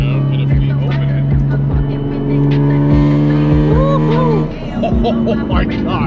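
BMW E46 M3 with a Valvetronic exhaust, valves open, in a stripped half-cage car with no back seats, revving loudly and rising and falling in pitch with sharp throttle blips, close and dominating the scene.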